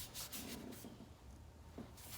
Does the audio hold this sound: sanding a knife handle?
yes